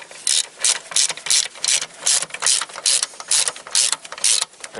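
A ratchet wrench tightens a 10mm battery bolt on a 1992–1995 Honda Civic, giving rapid, close, loud bursts of clicking in a repeated back-and-forth rhythm with brief pauses between strokes.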